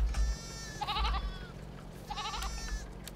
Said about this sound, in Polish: i mamy kozy